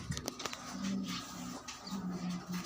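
Pigeons coo softly in short, low repeated phrases under a roof, faint and close, with light scuffing and patter among them.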